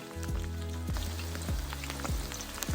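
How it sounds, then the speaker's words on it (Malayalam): Small peeled shallots, about two kilos, fry in hot oil with mustard seeds for a large beef curry, giving a loud, steady, dense sizzle with repeated low sweeping tones and scattered crackles. "കടുക് പൊട്ടിയതിന് ശേഷം ഏകദേശം രണ്ട് കിലോയോളം പൊളിച്ച ചെറിയ ഉള്ളി ഇട്ട് കൊടുക്കാം"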